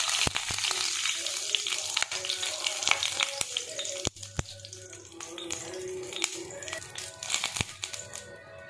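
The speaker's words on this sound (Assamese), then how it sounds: "তেলখিনি গৰম হৈছে ইয়াতে মই দি দিম তেজপাত লং আৰু" Bay leaf, cloves and cinnamon fry in hot oil with a steady close sizzle and crackle, broken by sharp clicks and taps of a utensil in the pan.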